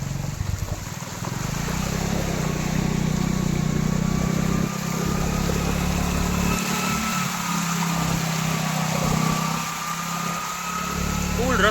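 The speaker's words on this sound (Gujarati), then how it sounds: "આજે બાઇક લઈને જઈ રહ્યા છીએ." A motorcycle rides along a flooded village road in heavy rain, its engine a steady, moderately loud hum throughout while people talk over it.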